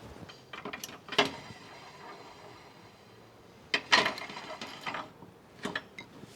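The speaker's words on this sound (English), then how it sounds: "Let me get the screw jack so at least you don't have to hold it." Screw jack being worked under a Mercedes-Benz AMG GTS in a garage, a few separate bursts of metallic ratcheting clicks, close and fairly quiet, with pauses in between.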